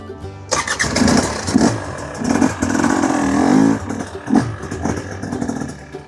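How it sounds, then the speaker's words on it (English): A GasGas EC300 GP two-stroke dirt bike engine running cold at a trailhead: a loud, close, rough idle with uneven chugging, a few sharp blips of throttle and a sustained rev in the middle, with no talk. "Bike's not even warmed up yet. She's a little grumpy."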